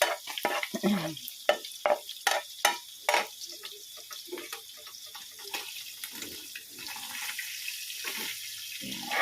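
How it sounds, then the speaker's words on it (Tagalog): Chopped garlic sizzles in a pan as it browns, with a burst of sharp scraping stirs early on, then a softer steady crackle, and no voices. "Ginawa na ang paghiwa ko ng bawang. Medyo atin siyang i-brown."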